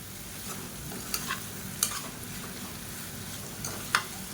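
Egg masala with added pepper powder is stirred in a frying pan, a steady low sizzle broken by a few sharp spoon scrapes against the pan, close and alone.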